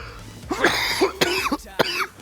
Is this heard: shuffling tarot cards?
no